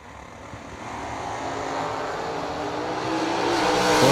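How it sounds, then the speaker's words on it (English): A drag racing car launches at a drag strip and its engine roars, the sound building steadily in loudness and pitch as it pulls away in a rising rush. "Cameron Manuel, Louisville, North Carolina, the American prepared dragster for CM."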